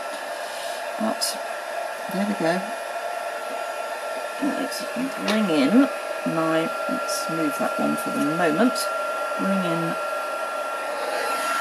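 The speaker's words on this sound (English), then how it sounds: "so heat up the heat gun. I'm sorry about the noise," A heat gun runs steadily for heat embossing, its loud constant whirring hum filling the background while a person talks over it.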